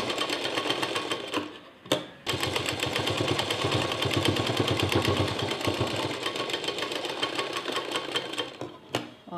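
A sewing machine stitches piping onto a small coin pouch, running in a fast, steady mechanical whir with a couple of short stops and restarts, close and alone.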